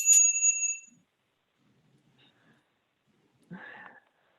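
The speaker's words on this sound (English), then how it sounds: "And I will also ring a little bell." A small handbell rung by the timekeeper at a Toastmasters meeting gives one bright, ringing ding that fades within a second. A brief, faint voice-like sound follows a few seconds later.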